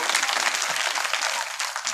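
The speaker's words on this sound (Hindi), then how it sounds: "एक बार जोरदार ताली बजाएंगे।" An audience at a Hindu religious storytelling gathering claps loudly, producing a dense, steady wash of applause that fills the whole moment without pause.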